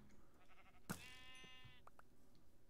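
A sheep in the video game Minecraft gives a single drawn-out bleat after a sharp thump, clear and fairly close against faint game background noise, with no talking.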